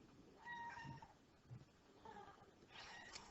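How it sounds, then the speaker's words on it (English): A pet cat meowing indoors, several faint, drawn-out tonal mews spread across a few seconds against quiet room background. "That's Tallulah the cat."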